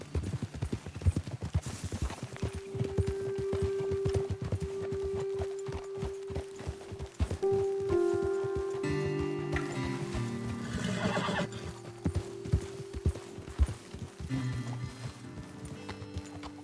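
Horses walking at an easy pace in the Red Dead Redemption 2 video game, steady close hoof clip-clops with one or two loud neighs rising over them, backed by soft music.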